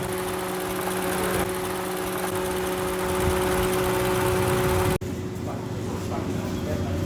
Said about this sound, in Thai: นี้สตาร์ทเครื่องยนต์อยู่นะครับ